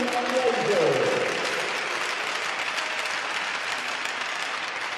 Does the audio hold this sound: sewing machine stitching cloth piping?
no